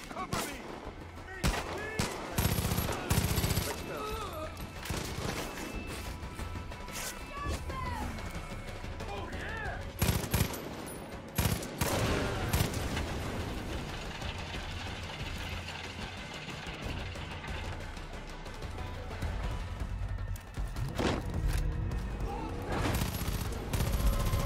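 Gunfire in Far Cry 5, with repeated loud bursts of shots and rapid fusillades over a busy game soundscape, a voice talking intermittently underneath throughout.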